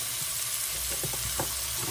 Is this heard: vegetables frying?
yes